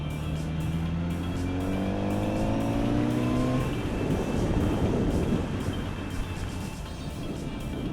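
2020 Kawasaki Z900RS motorcycle heard while riding, engine note rising through gears with a steady harmonic drone, then broadening into loud rushing wind and road roar; no talking.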